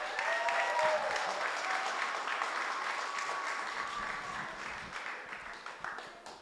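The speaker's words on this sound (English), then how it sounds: "Let's give a round of applause." Sustained applause from wedding guests after a toast, a dense steady patter of many hands clapping that gradually thins and fades toward the end.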